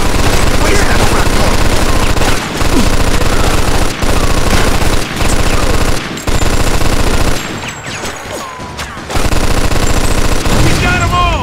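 Loud, sustained machine-gun fire in the video game Mafia 2, rapid rhythmic bursts with short pauses between them, dominating the scene with little else audible.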